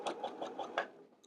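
A sewing machine runs a few slow stitches over elastic, giving a steady, close rhythmic chugging of about five even beats with no talking.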